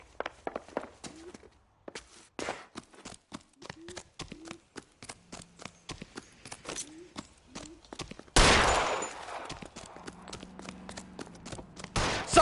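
Gunfire in the crime video game L.A. Noire: a rapid string of sharp shots with footstep-like thuds, building to a loud, dense blast near the end, with no clear talk over it.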